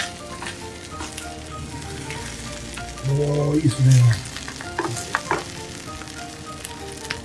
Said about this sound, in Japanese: お米を焼くようなイメージで水分を飛ばして焼き色をつけるというイメージですかね。